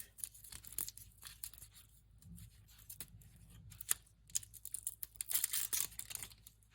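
Garlic cloves being trimmed at top and tail with a knife and then peeled, heard as close, crisp cuts on a board followed by dry crackling and crinkling of papery skins, quiet and irregular, with no talk.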